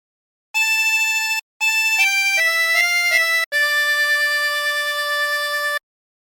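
A 24-hole tremolo harmonica plays the hymn What a Friend We Have in Jesus as a short phrase of clear, reedy held notes, with one brief pause near the start, moderately loud and alone.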